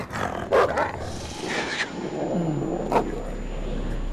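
A dog in the game Until Dawn gives a few sharp barks and a low growl, close and loud, with steady background ambience.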